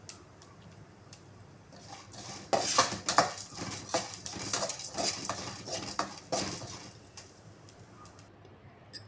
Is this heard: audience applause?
no